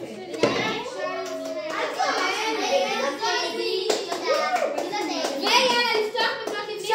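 Young children clapping their hands in a playful group, the claps scattered and overlapping with lively kids' chatter and voices talking throughout, close and fairly loud.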